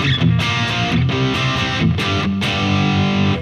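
A heavily distorted Gibson Les Paul electric guitar, played through a Freeman BLD distortion pedal, plays loud, sustained chords and riffs with short pauses between phrases, no voices.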